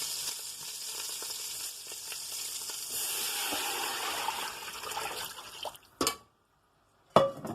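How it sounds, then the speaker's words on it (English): Water poured into a pot of frying rice with a cinnamon stick for chicken biryani, a loud steady sizzle and splashing hiss that runs for about six seconds before cutting off, followed by two short bursts. "Now I shall be adding the water to it."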